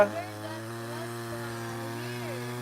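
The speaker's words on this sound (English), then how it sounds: "It works good, though. For a copy of a chainsaw, I mean," A cheap copy chainsaw with a bent bar idles at a steady, buzzing drone, close and continuous and fairly loud throughout, with no one speaking over it.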